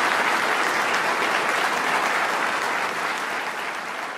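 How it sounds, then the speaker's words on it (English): A room full of people gives Governor David Paterson a big round of applause, a dense sustained wash of clapping that stays loud and slowly fades at the end. "let's give a big round of applause to Governor David Paterson"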